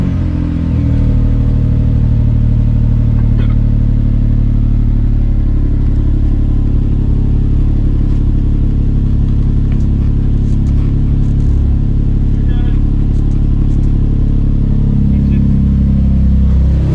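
Nissan 350z with a freshly installed down pipe, engine idling loud and steady with a deep droning rumble, held close and constant throughout, with a slight rise in revs near the end.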